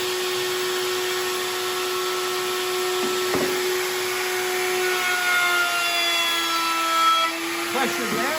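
A router trims the edges of a wooden cheese board, a steady, loud high-pitched motor whine with the cutting pitch shifting slightly as the bit moves along the wood.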